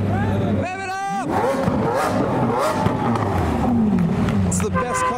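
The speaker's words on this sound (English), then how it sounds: "You want to hear it and see it flame? Rev it up!" A Liberty Walk Nissan GT-R leaving the SEMA 2023 show, its engine revving hard in loud roaring bursts amid a cheering crowd and overlapping voices, close by.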